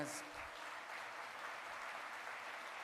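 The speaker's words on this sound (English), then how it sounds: "they deserve an applause" Steady, soft applause from the audience at a cybersecurity competition award ceremony, heard at a distance as an even wash of clapping.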